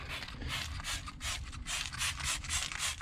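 Wheel cleaner hisses from a spray bottle onto the road-grimed wheels of a Kenworth T800 truck, a run of short, close, repeated spray bursts in an irregular rhythm, fairly quiet and with no talking.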